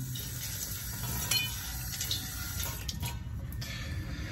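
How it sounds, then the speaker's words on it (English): Running tap water pours steadily over a Belgian blue sharpening stone as it is rinsed clean during knife sharpening, a continuous close splashing wash with no talk. "Okay, so I'm going to rinse this down."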